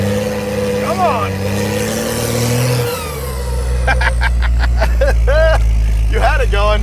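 A Cadillac fitted with a Cummins diesel engine rumbles loudly and revs up while doing donuts, its deep drone climbing and holding as people shout and cheer over it.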